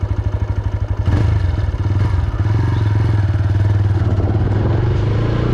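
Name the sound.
TVS Raider 125 motorcycle engine idling in power mode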